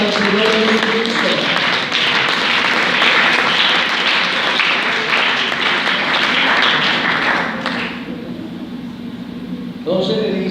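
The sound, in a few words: congregation applause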